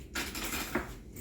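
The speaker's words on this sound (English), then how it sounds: "let me get a fork instead of a spoon" Metal cutlery clinks and rattles briefly as a fork is picked out from among other utensils, a quick, light jingle at close range with a small sharp clink near the end.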